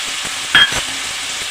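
Spice paste mixed with water goes into frying tomatoes in a pan for a radish and tangra fish curry, giving a steady close sizzle with a brief louder burst as it hits the oil.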